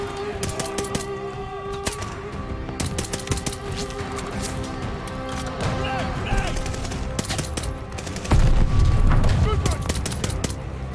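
Rapid bursts of gunfire in the video game Call of Duty: Vanguard, sharp repeated shots and clatter with a heavier boom near the end, while players talk over it.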